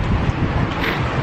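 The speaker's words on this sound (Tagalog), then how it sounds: "Ay, ang hangin, guys." Outdoor wind buffets a handheld microphone in one short, continuous, loud rumbling gust, heard alone without talk.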